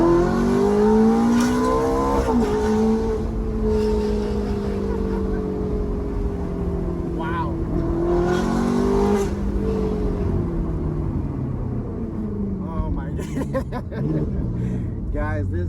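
Ferrari F430 engine revving hard and accelerating from second gear, a loud, rising mechanical howl that climbs and drops with each gear change, with someone talking and laughing over it.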